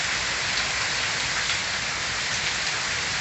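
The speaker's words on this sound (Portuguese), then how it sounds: "Continua chovendo aqui no sertão de Pernambuco." Rain falling steadily in the sertão of Pernambuco without thunder, a dense, even hiss of drops on surfaces that stays constant throughout.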